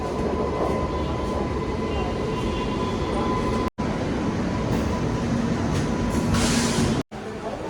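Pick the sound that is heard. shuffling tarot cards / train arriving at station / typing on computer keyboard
train arriving at station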